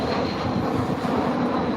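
A British Airways airliner passes close by near Heathrow Airport, a loud continuous roar of jet engines filling the whole moment.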